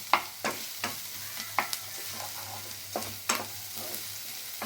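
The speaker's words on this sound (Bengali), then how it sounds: "একটু লাল লাল করে ভেজে নেব।" Garlic frying in refined oil and butter in a pan, with a steady low sizzle broken by repeated sharp scraping stirs at an irregular rhythm, close and fairly loud, no voices.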